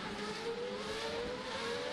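F2 race cars in the Assetto Corsa racing game at the Azerbaijan circuit rush past, a steady droning engine whine with a slowly falling pitch, continuous and fairly distant, with no voices.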